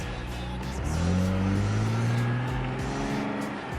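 A Lexus IS250 sedan fitted with cheap lowering springs rolls along on a test drive, its engine droning steadily and rising in pitch as it accelerates, close and continuous with no voices.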